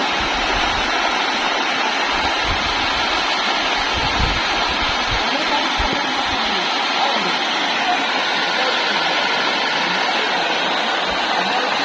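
Loud, steady rush of water flowing through a channel, a continuous broadband roar that stays even throughout, with faint low rumbles underneath.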